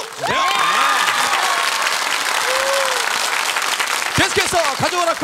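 A KBS TV game-show studio audience applauds loudly and continuously, with shouts and voices over the clapping.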